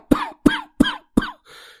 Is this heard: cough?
yes